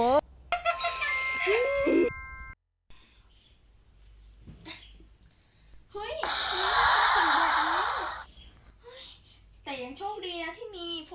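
A notification bell ding rings out as a bright tonal chime, followed by a sustained bright electronic burst, with someone talking before and after it.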